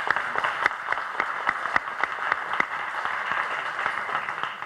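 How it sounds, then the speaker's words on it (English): Guests at an entrepreneurship awards ceremony give a round of applause: dense, steady clapping from a crowd with sharp individual claps standing out, sustained evenly throughout. "please give them a round of applause."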